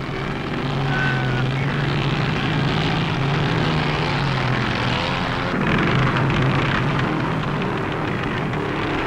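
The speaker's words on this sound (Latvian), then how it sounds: "Starts motocikliem ar blakusvāģiem." Sidecar motorcycle engines roar loudly in a continuous droning rumble as a motocross race gets under way in Latvia in the 1950s or 1960s.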